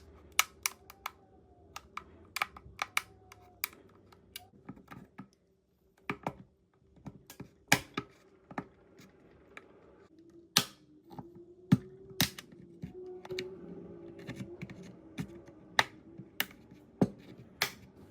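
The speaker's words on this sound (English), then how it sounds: "insert a thin plastic pry tool into the seam and carefully release the clips around the perimeter" Sharp plastic clicks and snaps from a thin plastic pry tool releasing the housing clips on a DJI RC-N3 drone remote controller, scattered irregular clicks close up with brief pauses, no talking.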